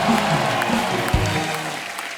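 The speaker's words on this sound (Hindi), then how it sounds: "इसके लिए जोरदार ताली हो जाए।" Studio audience applause on a Hindi comedy entertainment show, a steady wash of clapping throughout, with a brief low thump near the middle.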